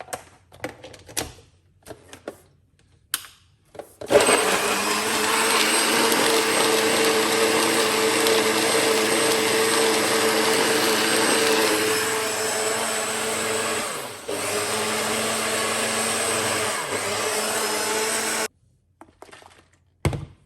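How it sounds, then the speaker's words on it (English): An electric blender purees a ginger detox drink with a loud, continuous motor roar that lasts about fifteen seconds and dips briefly midway. Scattered clicks and handling knocks come before it starts and after it stops. "Let's blend it and make some noise."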